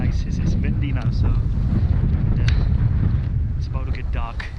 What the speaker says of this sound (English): It's windy now